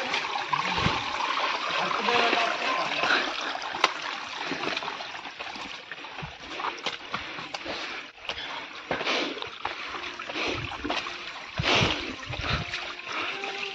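Water rushes and splashes continuously nearby, a fluctuating watery hiss with occasional louder surges, from a flowing stream on a monsoon trek at Korigad Fort, Maharashtra.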